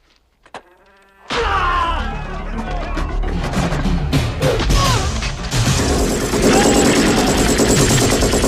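Rapid bursts of automatic gunfire as troops riddle a warehouse in an action film, loud and dense after a brief quiet opening, with crashes and impacts mixed into the barrage.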